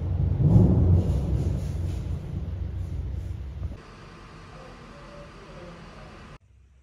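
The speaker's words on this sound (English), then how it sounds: "we have like a thunderstorm outside." A thunderstorm outside an art studio in Riga gives a deep rolling rumble of thunder that swells loudly, then fades into a softer steady hiss before stopping abruptly.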